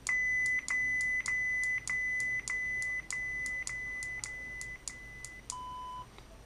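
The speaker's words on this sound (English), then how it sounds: "So now the volume's all the way down when you hear that tone." Series of short electronic beep tones from a custom etched TeensySaber Neopixel lightsaber in its volume menu, about a dozen evenly spaced bright chirps followed by a final lower, longer tone, close and clear with no talking.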